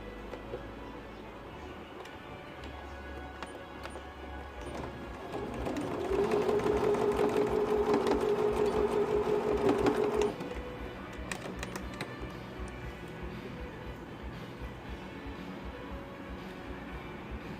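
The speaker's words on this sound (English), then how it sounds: "we're just going to run a 1/8 top stitch down just to secure the tabs" A sewing machine runs a short 1/8-inch top stitch to secure zip pocket tabs, a steady close mechanical whir lasting about four seconds, then stopping into quieter room noise.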